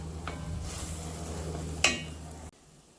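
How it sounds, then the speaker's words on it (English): Red wine simmers in a beef stew pot, a steady low bubbling sizzle with a spoon stirring and one sharp metallic clink before it cuts off, with no talking. "I will also let the wine kind of cook off a bit."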